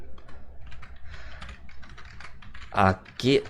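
Computer keyboard typing in short bursts, a few loud clustered keystrokes near the end over a quiet background, set to a Korean-language layout.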